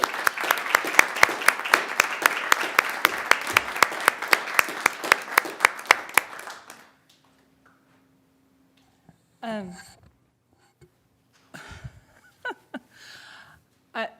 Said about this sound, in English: one more round of applause for Millie Barr